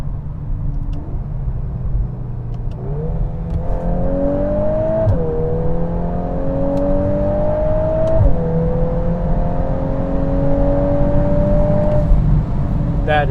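A 2023 VW Golf R with dual-clutch transmission accelerating hard in race mode, its engine note climbing steadily through quick upshifts with brief dips at each gear change, loud and close inside the cabin.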